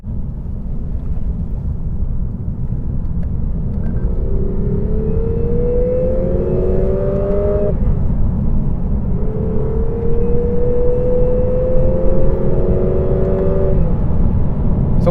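A 2018 Lexus RC 300 F-Sport engine with active noise control drones steadily inside the cabin, with two rising tonal sweeps as it climbs through the revs, loud and continuous with no talk.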